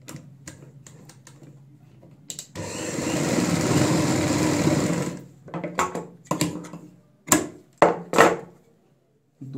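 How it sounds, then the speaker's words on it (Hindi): A sewing machine runs in one steady burst of about two and a half seconds while stitching the corners of a fabric purse, with clicks and short handling taps before and after. "सेम इसी तरीके से हम जो ये वाले कोने हैं हमारे इनमें भी सिलाई लगाएंगे।"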